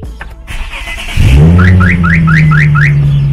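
A car alarm blares close by, a rising chirp repeating in quick even bursts over a steady low engine drone, loud and sustained.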